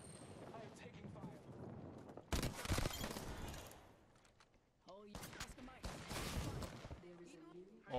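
Gunfire in the video game Apex Legends, bursts of rapid shots in two loud clusters separated by a quieter stretch, mixed with excited voices talking over the action.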